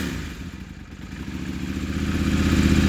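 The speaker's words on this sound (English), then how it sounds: "I just cranked the throttle just now as it was trying to start, and then it started." A KTM 790 Adventure motorcycle with a starting fault catches and starts: a low, uneven churning that builds into a rising, steady engine rumble, close and loud, with no voices.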